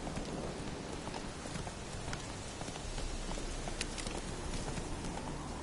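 Horse in Witcher 3 clip-clopping along at a steady gait, hooves faint under a dense hiss of rain on the ground, continuous throughout without talk.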